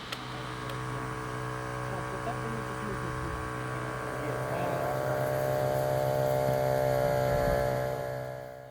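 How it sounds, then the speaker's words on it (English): Steady droning hum of an air compressor at the rear of a drone launch frame in a Ukrainian field position, continuous and moderately loud throughout with faint background movement. "The sound you can hear is that of an air compressor at the rear of the launch frame."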